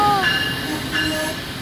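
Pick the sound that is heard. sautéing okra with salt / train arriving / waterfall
train arriving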